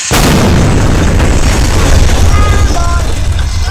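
A loud, sustained explosion in Roblox Survive The Natural Disasters rumbles continuously with heavy low-end roar, a big synthetic blast that doesn't let up for several seconds.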